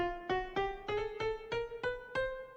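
Eight struck keyboard notes climb one after another in half steps, evenly spaced and clear, each ringing briefly before the next.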